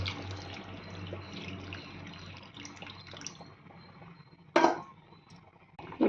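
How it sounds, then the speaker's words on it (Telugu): Tamarind juice poured into a fish curry in a home kitchen gives a steady, soft liquid trickle, followed by a couple of sharp splashes and clinks toward the end, with no talking. "అప్పుడు చింతపండు పులుసు వేస్తాను"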